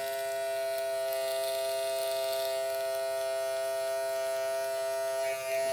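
Electric hair clippers with no guard cutting a child's hair buzz as a steady close-up drone, constant and loud for the whole stretch with no voices over it.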